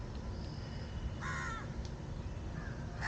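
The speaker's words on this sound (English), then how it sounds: "The crows, they are eternally talkative." Crows caw outdoors, giving two or three short, harsh calls at moderate distance over a steady background rumble.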